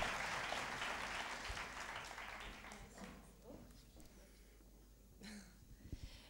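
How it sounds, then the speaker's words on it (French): Audience applauding at a university session in Avignon, a broad burst of clapping that is loudest at first and then thins out and fades, with a voice briefly breaking in near the end. "On les applaudit, bravo."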